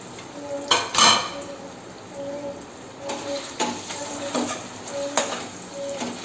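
Steady background sizzle of potatoes frying in hot oil in a kadhai, with scattered metallic clinks and scrapes of a utensil in the pan, moderately loud throughout.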